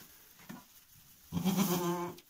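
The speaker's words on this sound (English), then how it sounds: "This goat is pregnant. She is crying today." A pregnant goat bleats once, a loud, wavering cry in the second half after a quieter stretch of faint rustling.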